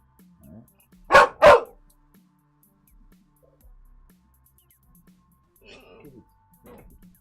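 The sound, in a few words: dog barking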